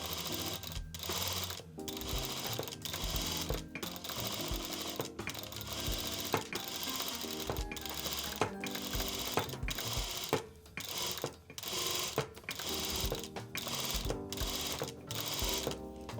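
Industrial sewing machine fitted with a hem folder stitching a hem: rapid, steady mechanical chattering close up, broken by brief pauses as the fabric is turned.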